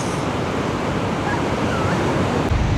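Ocean surf on the coast at Rabat, Morocco rolls in a steady, continuous wash of waves, moderately loud, with wind noise and a faint bird call in the background.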